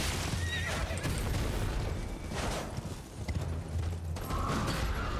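A horse in the game Elden Ring whinnies and snorts amid clopping hooves and mechanical creaks, with two bursts of neighing separated by a brief lull; no talking.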